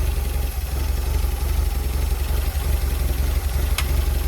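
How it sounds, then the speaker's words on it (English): A Porsche 924 engine idles steadily after a cold start, unrun for weeks, with a low, even rumble and constant vibration, no revving, for several seconds. "the engine hasn't run for a few weeks, so it is a cold start"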